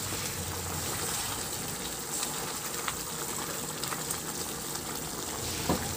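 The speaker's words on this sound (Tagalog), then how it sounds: "Maglagay na ako ng tubig" Water pours into a pot of cooking pork ribs, a soft continuous gushing and sizzling wash that stays fairly faint and even, with a few small clinks near the end.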